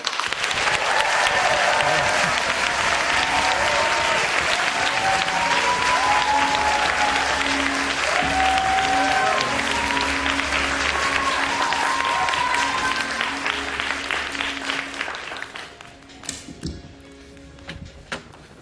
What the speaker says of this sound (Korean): 환호와 박수로 환영해 주시기 바랍니다